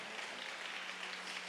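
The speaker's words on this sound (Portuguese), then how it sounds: "Você pode aplaudir o Senhor" A church congregation claps during a service, giving a faint, even wash of applause with no voice over it.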